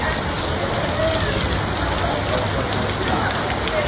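Heavy rain pours down steadily in a dense, unbroken hiss during a hailstorm, loud and close throughout with no voices.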